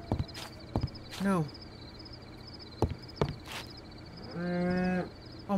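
Cow mooing in the Minecraft video game, two short low moos a few seconds apart, sitting among scattered clicks and game sounds with a faint hum underneath.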